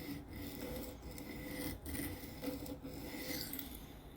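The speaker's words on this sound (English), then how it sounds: "I'm just literally trying to see if this will give me a sharp edge or not with this really inexpensive aluminum oxide stone." An S110V steel knife blade is sharpened on an inexpensive aluminum oxide stone, making close, steady rasping strokes with brief pauses between passes, with no voice present.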